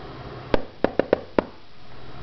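Five sharp knocks on a knock-activated secret lock, struck in an uneven rhythmic pattern with a short gap before the last, close and clear against quiet room tone.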